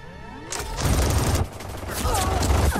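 Gunfire in Mortal Kombat 11's story mode, loud rapid bursts of shooting and booms overlapping in close succession, with faint voices and game effects underneath.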